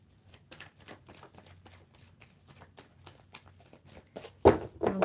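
A deck of cards riffled and shuffled for a card reading, a rapid run of soft papery flicks through most of the clip, ending in a louder, fuller burst of cards snapping together.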